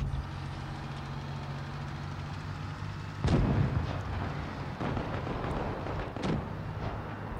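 Tank cannon fire in the mobile game World of Tanks Blitz, played on an iPad: a heavy boom lands partway through over a steady engine rumble, followed by a few smaller bangs and impacts, with no talking.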